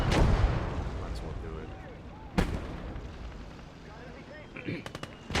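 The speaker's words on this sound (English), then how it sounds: "That mortar is so damn annoying." Mortar and artillery fire in the World War II strategy game Gates of Hell, hardcore US campaign: loud booming blasts at the start and midway, then a few sharp distant impacts near the end over a rumbling battlefield backdrop.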